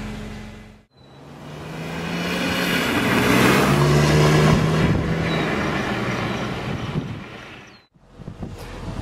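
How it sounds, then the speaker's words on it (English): BMW M3 convertible pulling away, its engine rising into a broad, swelling drone with heavy wind buffeting over the microphone, loud and close, fading out near the end. "Get underway in the M3."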